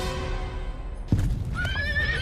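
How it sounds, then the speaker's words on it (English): A horse rears and neighs, with a heavy thud of hooves followed by a loud, shrill whinny that rises and wavers close by. "Brownie's horse suddenly reared and crashed down, crushing his foot"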